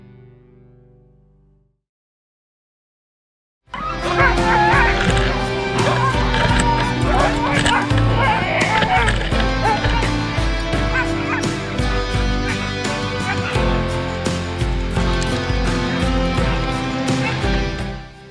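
A sled dog team being lined up for mushing makes a loud, sustained din of barking and yelping. It starts abruptly after a few quiet seconds and continues densely without a break.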